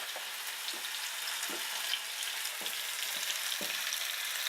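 Beans sizzling steadily in a pan, a continuous bright crackle with occasional louder pops and stir scrapes, heard close up with no talking.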